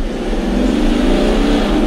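Ineos Grenadier diesel engine pulling hard under load, a loud, steady, close drone of engine and road noise held throughout with no talking.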